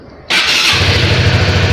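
A Honda CB150R motorcycle engine cranks on its electric starter and catches abruptly, settling at once into a loud, close, steady idle with an even low pulse.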